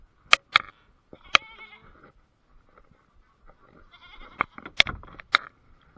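Several goats bleat in sharp, loud bursts, a couple early and a cluster toward the end, with quiet gaps and faint rustling between.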